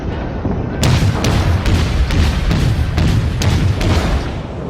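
Warship naval gunfire in the online game World of Warships, a series of loud, booming shots and impacts over a continuous rumbling battle background, close and heavy.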